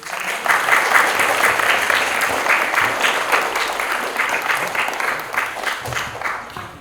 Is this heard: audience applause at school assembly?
yes